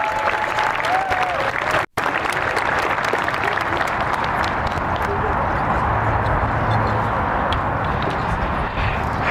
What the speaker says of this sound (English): Let's give another round of applause to these fine students